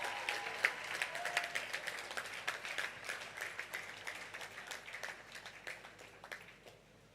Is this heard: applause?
yes